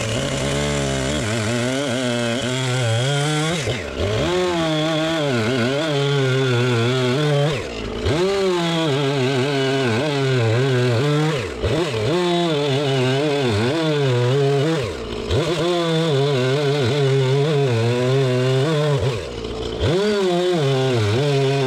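A Husqvarna chainsaw cuts a log into pieces, its engine screaming steadily through each cut, then dropping briefly to idle between cuts several times, loud and close with no talk.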